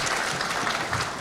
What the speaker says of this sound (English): Please give the panelists one more round of applause.